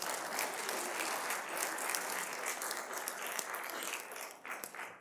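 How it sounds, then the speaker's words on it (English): A church congregation applauds steadily for several seconds, a dense wash of clapping that holds fairly even before thinning slightly near the end. "Give the Samaritan a big round of applause."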